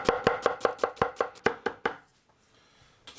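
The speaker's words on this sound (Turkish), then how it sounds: "Soğanlarımı hemen doğruyorum" A knife chops onions on a cutting board while a burger is made at home: about ten crisp, evenly spaced strikes, close and loud, then the chopping stops and only quiet room sound remains.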